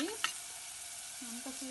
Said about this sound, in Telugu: మనం తిప్పుతున్నాము.